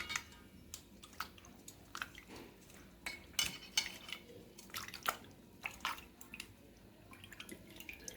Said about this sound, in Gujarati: આપણે ફ્રેશ પાણીમાં થોડું ધોઈ દઈશું